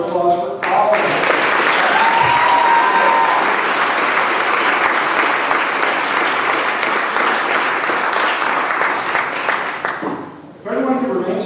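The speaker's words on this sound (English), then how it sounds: "let's have one more big round of applause for all of them" A large audience at a pitch event applauds loudly and steadily for about ten seconds before the clapping abruptly fades; a brief voice is heard at the start and end.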